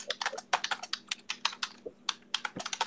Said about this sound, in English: I was just typing that